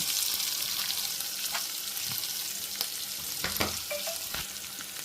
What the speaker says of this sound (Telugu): చూడండి కాకరకాయ ముక్కలు వేగుతున్నాయి కదా